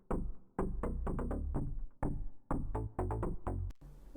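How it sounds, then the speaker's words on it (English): Melodic bass line from a remix drop, a rapid run of plucked, punchy notes with bright clicky tops over deep low end, close and alone. "Then I have this bass, which plays out the whole melody throughout the whole drop."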